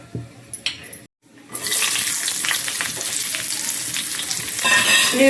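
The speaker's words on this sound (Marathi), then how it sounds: "मिरची, लसूण आणि अद्रक मी टाकलेलं आहे, तर तेलावर थोडे परतून घ्यायचं" Loud, steady sizzling of green chilies, garlic and ginger frying in hot oil for Kolhapuri kharda chicken, after a few brief clatters and a short pause at the start.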